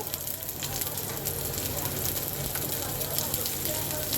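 Chopped garlic and onion frying in a pan, a continuous loud sizzle and crackle filling the whole stretch with faint background noise.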